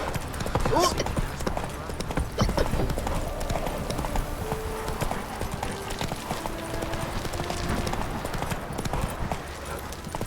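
Roach the horse gallops with rhythmic clip-clop hoofbeats in The Witcher 3, steady and close throughout, with in-game music tones and a voice talking over the hooves.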